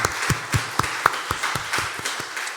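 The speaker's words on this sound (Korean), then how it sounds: "여러분 이 박수 한번 잘 치는 게요" A church congregation at a Sunday graduation worship service claps in a steady, slightly uneven rhythm, roughly ten claps that blend into a reverberant hall.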